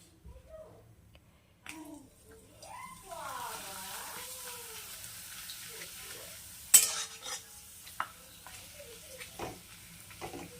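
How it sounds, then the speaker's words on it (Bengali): Oil sizzles as papad is fried in a wok, with clinking and stirring, short sharp clatters, and speech over the cooking. "এবার দিয়ে দিই কড়াইয়ে, দিয়ে ঝামাঝাম ভেজে নিই"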